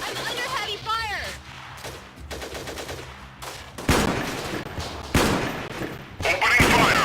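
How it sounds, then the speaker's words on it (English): Heavy gunfire in the video game Freeman: Guerrilla Warfare: loud bursts of automatic fire and sharp shots, with voices talking over the opening before three hard, close volleys hit. "I'm under heavy fire!"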